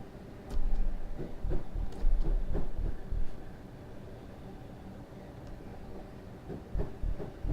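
A Class 455 electric train in Train Simulator runs on a falling gradient between Crystal Palace and London Bridge, with steady rumble and rhythmic clickety-clack wheel thumps over rail joints, loud and close.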